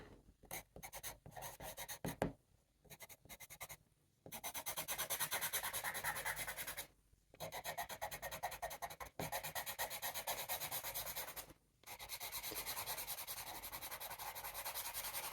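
A pencil or charcoal scratches across textured art paper in quick close strokes, with dry rasping bursts that start and stop. Short pauses break up the strokes.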